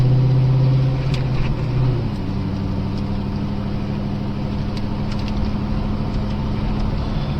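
A Corvette C6 Z06 engine drones steadily from inside the car while driving, a continuous low rumble with a brief deeper pitch shift early on, then holding an even, loud note throughout.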